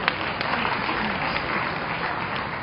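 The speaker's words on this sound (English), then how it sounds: "Can we just put our hands together for you?" Sustained audience applause at an awards presentation during a church-style celebration event, dense steady clapping from a crowd throughout, fairly loud with no speech over it.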